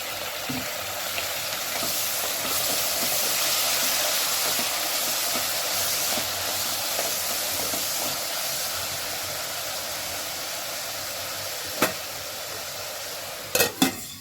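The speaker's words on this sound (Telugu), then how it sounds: "కొంచెం సేపు మగ్గనివ్వాలి ఈ కూర" A Rayalaseema-style mixed vegetable curry simmers and steams in a pan, giving a steady, dense sizzling hiss throughout, with a few light clinks near the end.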